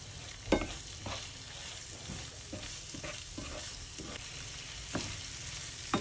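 Minced meat seasoned with Vegeta and red pepper fries in a pan, a dense, close sizzle with occasional scraping strokes from stirring.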